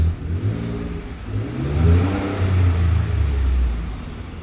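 A 2015 Ford F-150 engine with its catalytic converter deleted revs up twice, a deep close exhaust rumble rising and falling with a thin turbo-like whistle sweeping above it on each rev.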